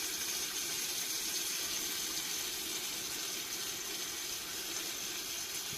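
Heavy rain pours down steadily at a woodland bushcraft shelter, a dense, continuous hiss with no breaks and no voices.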